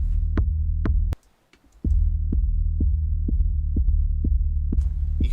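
A kick drum thumps steadily over a droning sub bass, each hit adding a short crackle of distortion, with the loop cutting out for a moment before resuming.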